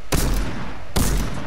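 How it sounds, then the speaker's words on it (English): Two sharp, loud shots ring out in a video game, evenly spaced under a second apart, each a bright broadband crack with a short rumbling decay. "Oh, no, I'm getting shot."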